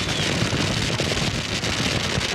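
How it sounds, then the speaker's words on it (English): Fireworks bursting in the sky above the Pomona drag racing track after a 2007 NHRA final, a dense, continuous crackle of rapid overlapping pops and booms, loud and sustained with no talk. "Now the fireworks in the sky over the track here at Pomona"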